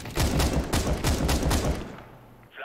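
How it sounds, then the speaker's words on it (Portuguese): Rapid bursts of automatic gunfire from a Counter-Strike: Global Offensive match on the Abbey map, loud and rhythmic in quick clusters before fading into a quieter tail. "Ele deu-lhe um headshot varado e não matou."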